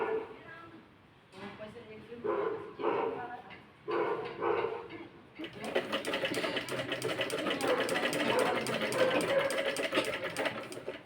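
After a few seconds of someone talking, a sewing machine stitches a traditional vest, running in a fast, steady mechanical chatter until the end.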